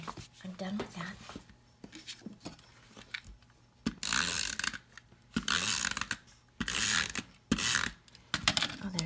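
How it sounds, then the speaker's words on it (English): An adhesive tape runner rolls onto paper in short creaky, ratcheting bursts, several close strokes separated by pauses, with a voice speaking between them. "As listening to your tape runner first thing in the morning."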